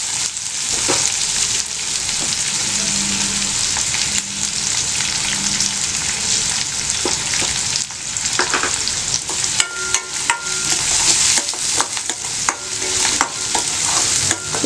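Green chilies, curry leaves and ginger sauté in a pan with a dense, steady, loud sizzle, as near spoon strokes scrape and clatter throughout, growing busier toward the end, with no speech.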